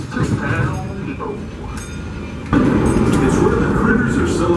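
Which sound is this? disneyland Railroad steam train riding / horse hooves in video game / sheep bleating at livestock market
disneyland Railroad steam train riding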